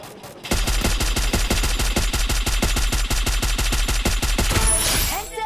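A video game gun fires in rapid, unbroken automatic bursts, loud and close at about ten sharp shots per second, before stopping abruptly near the end.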